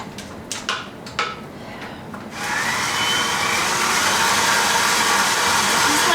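Electric mixer beating butter and cream cheese at medium speed, a loud continuous whirring hum that starts after a few short clatters and scrapes and runs steadily to the end.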